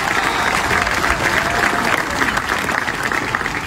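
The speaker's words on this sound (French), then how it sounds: "je pense que ça mérite des applaudissements pour notre président." Sustained audience applause honouring a president, dense steady clapping from a crowd throughout with no pauses, loud and continuous.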